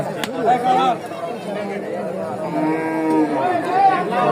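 Cattle lowing amid a busy crowd, with overlapping voices and chatter surrounding large cattle at a lively outdoor cattle market.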